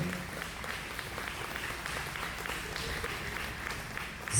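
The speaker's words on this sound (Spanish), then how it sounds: "Denle un aplauso" Church congregation applauding after a sermon, a soft, even wash of clapping held at a steady low level throughout, somewhat distant.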